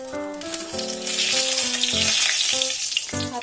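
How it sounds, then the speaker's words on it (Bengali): Bay leaves dropped into hot ghee in a wok set off a sharp, rising sizzle that stays loud and crackling, close up, beneath light background music. "কড়াইতে আমি তেজপাতাগুলি দিয়ে দেব।"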